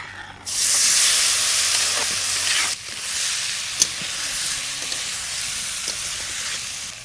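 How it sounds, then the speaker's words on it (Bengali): Fish hits hot oil with dried chili and cumin, bursting into a loud, close sizzle that hisses steadily and eases slightly after a few seconds, with a few faint clinks. "সামান্য একটু তেল দিচ্ছি, শুকনো লঙ্কা, জিরে, মাছটা দিয়ে দেবো।"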